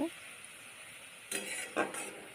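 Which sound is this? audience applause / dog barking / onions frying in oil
onions frying in oil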